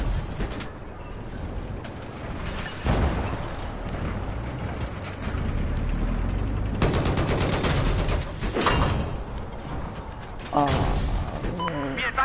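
Gunfire in the Battlefield 4 video game: rapid, dense bursts of shots and mechanical clatter crackle across the whole clip, swelling loud around the middle and again near the end, with a voice speaking at times over it.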